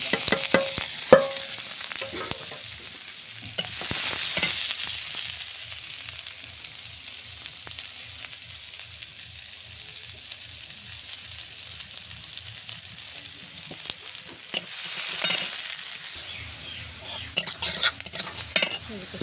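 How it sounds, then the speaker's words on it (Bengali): Onions frying in oil left over from frying small fish in a pan, a steady sizzle and crackle with scraping stirs and clinks of a utensil against the pan throughout. "মাছ ভাজা তেলে পেঁয়াজ দিলাম।"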